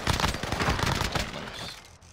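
Rapid bursts of video game gunfire crackle in quick succession, loud at first and then thinning out and fading over about two seconds.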